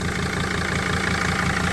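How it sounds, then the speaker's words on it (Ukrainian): A silver 2006 Mercedes Sprinter 416 Maxi truck with dual rear wheels idles close by, a loud, steady diesel rumble with an even low throb and no voices. "Mercedes Sprinter серебристий 416, заведений двигун"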